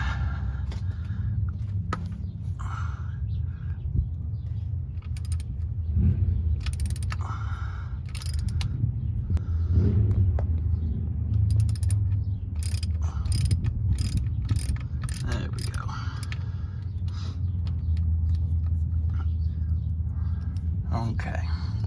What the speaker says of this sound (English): It takes an 11mm socket, so I'm going to break that loose